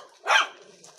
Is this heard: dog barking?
yes